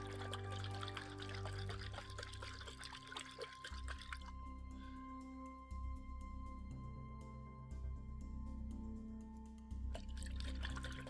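Liquid sloshes and gurgles inside a container being shaken near hot water, a steady wet churning with dripping, trickling splashes throughout, close and fairly loud with no talking.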